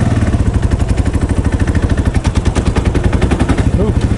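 Motorcycle engine running steadily on an Indian summer ride up a town's main drag, a loud, close, rapid pulsing exhaust thrum with no talk over it.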